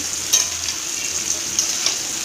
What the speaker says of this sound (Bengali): খেতে আমি করে নিচ্ছি কাঁকরোল ভাজা